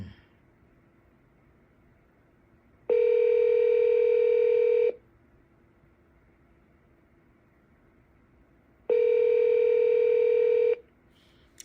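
Two long electronic ringback tones of about two seconds each, separated by several seconds of near silence, heard while an outgoing phone call goes unanswered.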